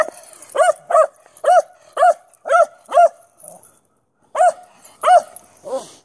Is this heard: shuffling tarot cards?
no